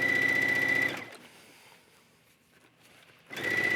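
A sewing machine runs a straight stitch at stitch length 3.0 with a jersey needle, whirring loudly and rapidly for about a second, pausing into near silence, then starting its fast mechanical chatter again.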